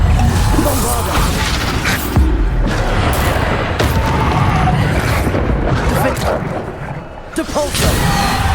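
Bombarda spell explosions from the video game Hogwarts Legacy, dense booming blasts and crashing impacts layered over busy combat effects, loud and continuous, with a voice speaking through the action.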